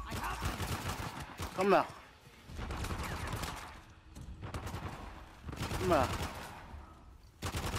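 Enemy gunfire in the action game Uncharted The Lost Legacy, sustained bursts of automatic fire in long stretches broken by brief lulls, heard under a character's spoken lines.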